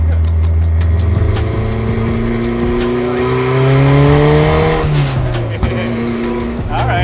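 An F1-inspired hot rod powered by a Honda S2000 VTEC engine drives near Miami, its engine drone rising in pitch under acceleration and then dropping on a shift, loud and close, with people talking over it.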